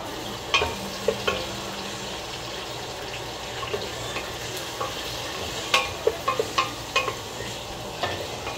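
Ingredients for goat caldereta sauté in a pan alongside fried potatoes, giving a soft steady sizzle and hiss broken by light clicks and scrapes of stirring.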